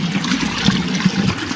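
Water of the Krishna River falling and rushing, a steady close roar of flowing water with a hissing spray, continuous for a moment with no voices.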